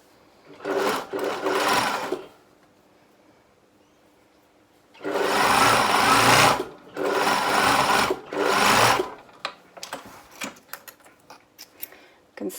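An overlocker sewing machine chains on in three loud, close bursts of rapid stitching, a short one followed after a pause by two longer runs, then light handling clicks and rustles.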